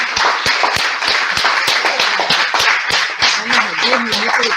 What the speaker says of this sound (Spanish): Vamos a repetir el aplauso.